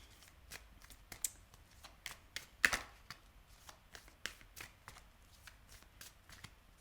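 Tarot cards are shuffled quietly at close range, a steady run of soft riffles and flicks with no talking.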